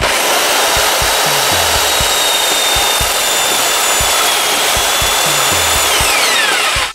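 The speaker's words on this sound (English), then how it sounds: "Now, just start drilling." A power drill bores into a large carved wooden Santa figure, a loud continuous whine with steady high tones and a rhythmic low chatter under it, close up, running for about seven seconds before cutting off.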